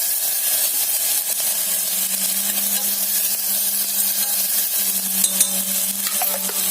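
Ginger, garlic and tomato sauté over a low flame in a pan, with a continuous close sizzle and soft stirring scrapes throughout, no voices.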